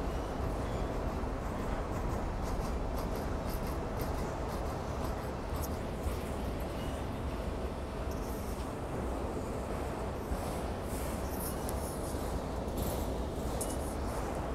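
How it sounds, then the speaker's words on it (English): A passing Union Pacific freight train at Oakland's Jack London Square station gives off a steady low rumble with metallic clanks and squeals from the cars, sounding moderately distant and continuous. "here comes the end of the train of this MOAOA"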